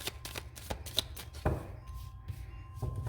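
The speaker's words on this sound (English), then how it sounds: "I'm going to shuffle one more time." Playing cards being shuffled close up, a quick series of riffling flicks and soft slaps followed by a sharper snap and a few lighter taps, with no talking.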